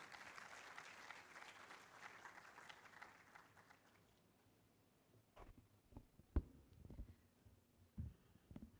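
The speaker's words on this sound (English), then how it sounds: "A big round of applause for her." Applause at a public lecture on quantum science in Ghana fades over the first few seconds, leaving scattered isolated claps and knocks against a quiet room.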